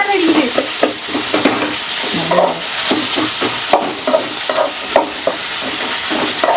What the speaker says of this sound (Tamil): வெங்காயம், பச்சை மிளகாலாம் ஆட் பண்ணலாம். இதெல்லாம் போட்டாதான் நிறைய சவுண்ட் வரும்.